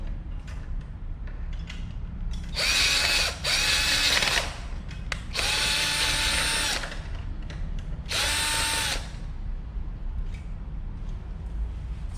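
A power drill drives screws in three separate bursts of whining motor noise, each lasting about one to two seconds, separated by quiet pauses.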